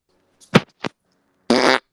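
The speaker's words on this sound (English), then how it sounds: "A rotten fart to start it." A fart sound played on a podcast: two short sputtering bursts and then a longer, buzzier blast, loud and close, with no talk over it.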